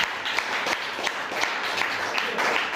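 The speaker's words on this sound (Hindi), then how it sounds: "मैं चाहूंगा सिस्टम के लिए एक जबरदस्त ताली होनी चाहिए।" Sustained applause from a seminar audience at an AWPL business event, steady dense clapping filling the room throughout.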